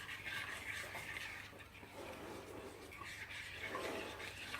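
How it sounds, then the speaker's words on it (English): Steady soft stirring of chocolate ganache in a bowl, kept going continuously to work out the lumps as the chocolate begins to harden, with a faint scraping texture and low background hum. "we keep just stirring and stirring until all the lumps have gone"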